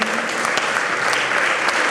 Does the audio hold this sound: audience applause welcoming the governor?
yes